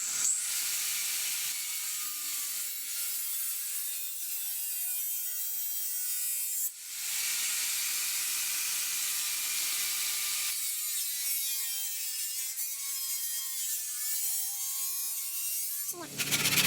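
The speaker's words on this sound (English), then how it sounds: "we're gonna sand this top edge, because this top edge is extremely sharp" Sanding the sharp top edge of a cut pipe for a tandem bike's bottom-tube bash guard, a steady abrasive rubbing that runs nearly the whole time with a short break midway, close and fairly loud.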